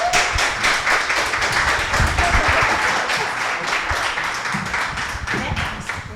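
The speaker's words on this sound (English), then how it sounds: "Please join me in giving Stacy a warm round of applause." Warm audience applause for a speaker at a business talk, a full roomful of clapping with rapid dense claps, close and steady for several seconds before easing slightly toward the end.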